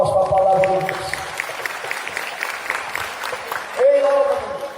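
A church congregation at a Portuguese-language worship service bursts into applause, a dense burst of clapping that swells through the middle, with a voice heard briefly before and after.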